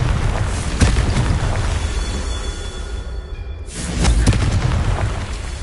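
The explosion of a Confringo fire spell in the video game Hogwarts Legacy: loud booming blasts with a sharp hit near the start and a second surge of rumbling a few seconds later, set against game noise and with no talking.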